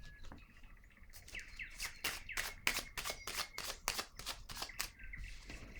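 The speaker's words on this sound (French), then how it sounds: "Je vais piger une carte pour laid." Playing cards riffle and flick in a rapid run of about a dozen crisp strokes, close and clear, with bird chirps faintly in the background.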